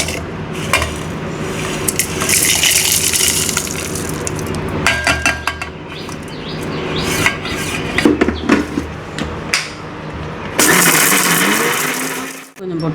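A mixer grinder whirs in bursts, grinding onion and coconut without any water, with rattling and clinking of the jar between runs, loud and close.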